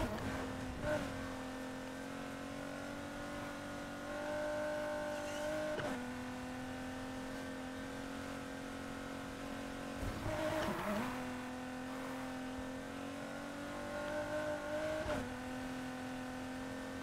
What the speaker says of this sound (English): now I can drift around a corner without worrying about hitting somebody or getting stuck behind someone's car